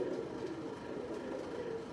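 Pigeons coo softly and steadily at a moderate distance, low rounded calls repeating without pause.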